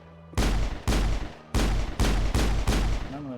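Heavy gunshots in the sci-fi video game Mass Effect 2, six loud, booming blasts spaced roughly half a second apart, each with a short tail, close and dominant with no talking over them.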